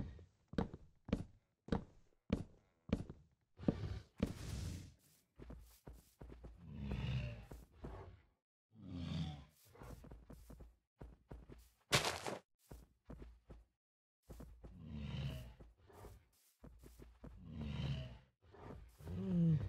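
Polar bear growls and roars in the video game Minecraft. The calls come as a series of short, separate bursts over steady footsteps, with thuds and a sharp burst of noise in between.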